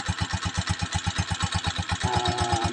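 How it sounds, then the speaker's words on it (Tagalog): A Honda TMX 125 Alpha motorcycle on a cold morning after a kickstart, its single-cylinder engine idling close by in a quick, steady put-put rhythm. A faint whine joins near the end, and no one speaks. "Kickstart ang gamitin natin sa umaga"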